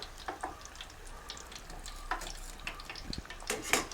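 Chicken potato drumsticks fry in oil with a soft, steady crackle, while occasional clinks and stirring scrapes from a utensil sound close by.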